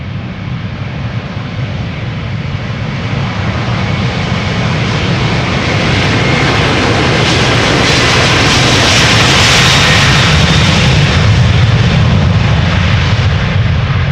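A KLM Airbus A330-300 departs Amsterdam Schiphol bound for Houston, its jet engines roaring loud and close in a steady, broadband rush that swells toward the end, with no voices.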